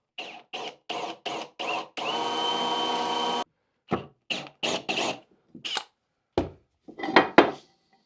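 Forstner bit boring a shallow recess on a workbench, with a row of short drill bursts, one longer steady whine, then more brief spaced bursts, close and fairly loud against silence.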